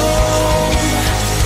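Rock song, a dense sustained band mix with steady low kick hits, heard loud and alone for a brief stretch.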